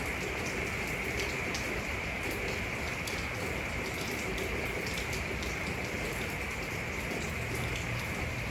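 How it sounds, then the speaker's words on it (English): Steady rain falling outside, a dense, even hiss of drops on surfaces, continuous and moderately loud with no talk. "And it's raining right now pretty well outside"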